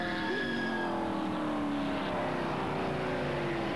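World Sports Car prototypes at Daytona test days, Spice, Tiger and Kudzu chassis with V8 Chevy, V8 Ford and Ferrari 348 engines: a loud, steady engine drone with rising and falling pitch, heard up close throughout.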